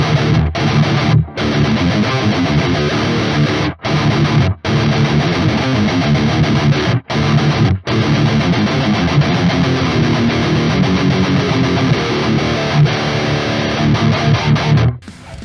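A heavily distorted electric guitar with a Seymour Duncan distortion pickup plays loud and continuously, with a few brief gaps between phrases.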